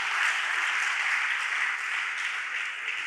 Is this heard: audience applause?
yes